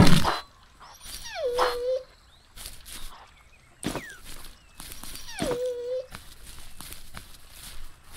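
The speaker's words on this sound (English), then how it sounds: "Let's take care of these wolves over here." Wolves in the PC game Gedonia let out two drawn-out whining cries amid scattered thumps and impacts, with faint game sounds in between.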